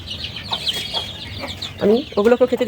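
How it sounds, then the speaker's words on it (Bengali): Native hens and the layer chicks they hatched cluck and peep while feeding, with soft chirps throughout and louder, rapid clucking bursts near the end, close by. "আমি দেশি মুরগি দিয়ে যে লেয়ারের বাচ্চা ফুটাইছি, আমি ওগুলোকেও কিন্তু খেতে দিচ্ছি"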